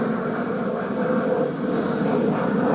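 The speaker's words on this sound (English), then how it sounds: "It's a loud ass plane." A loud airplane passes overhead as a broad, steady engine drone and rumble that swells slightly toward the end, heard alone without talking.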